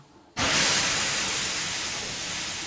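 A sudden loud hiss of steam bursts from a steam engine after a brief quiet moment and keeps rushing steadily, fading only slightly.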